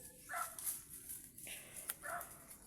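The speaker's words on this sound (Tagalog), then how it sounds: "Yun guys, yung malaking aso guys" A big dog barks three times at a distance, short separated woofs with quiet gaps between them.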